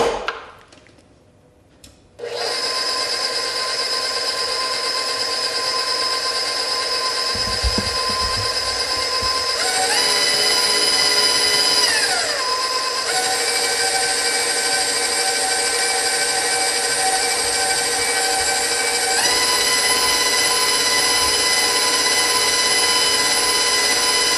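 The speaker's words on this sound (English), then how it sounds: "And then it says blend until smooth." A kitchen blender runs steadily, blending recipe ingredients until smooth. Its loud motor whine holds for over twenty seconds after a short start, and the pitch shifts a few times as the load changes.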